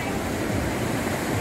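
Sea water washing and churning through the rock arch of Broken Bridge on Nusa Penida, a dense, steady roar of surf filling the brief moment.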